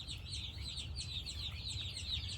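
Soft, continuous high chirping from many newly arrived chicks, steady and busy throughout, with a low rumble underneath and no talking.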